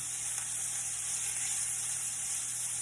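Beef for stroganoff searing in a hot pan gives off a steady, close sizzle and hiss that holds even throughout, with no voices.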